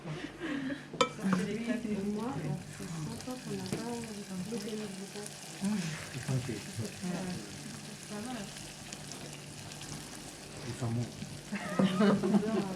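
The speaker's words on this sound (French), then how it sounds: "Je vais ajouter le beurre avec les cristaux de sel." Salted butter with salt crystals stirred into hot caramel in a pan gives a soft, continuous sizzle and bubbling, with light scraping. A voice speaks over it for most of the time.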